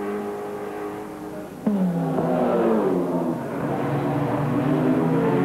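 Holden Group A touring race cars accelerating out of a corner at the 1989 Australian Grand Prix, a loud sustained engine roar with rising and overlapping revs, steady throughout.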